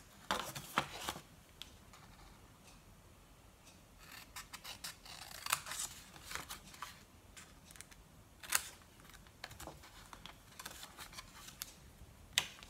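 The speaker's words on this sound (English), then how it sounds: "I'm going to cut up to this horizontal score line, and I'm going to cut away the 2 end" Scissors snip through paper while trimming small gift packaging, a series of close, crisp cuts in irregular bursts with quieter rustling pauses between them, no talk.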